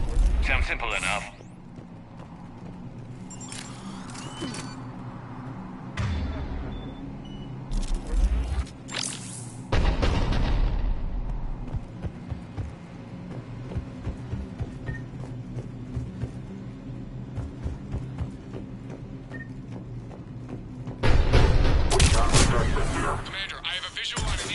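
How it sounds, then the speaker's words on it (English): Cannon fire and explosions in the video game Mass Effect 3, scattered heavy booms and crashes with louder bursts around the middle and end, heard beneath characters talking and game music. "The cannon fire is clearing the way."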